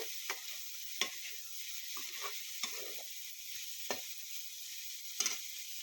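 Bitter gourd fry being stirred in a pan after salt goes in, giving sharp scrapes and clacks of a spoon at irregular intervals over a faint steady sizzle, with no one talking.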